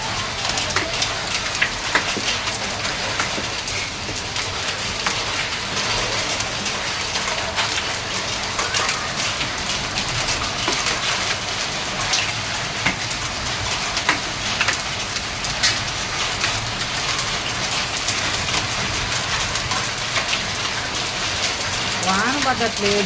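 Hail and rain hammer down during a storm in Hyderabad, a constant loud wash of impacts with crisp individual ice hits rattling on hard surfaces, plus a brief faint disturbance near the end.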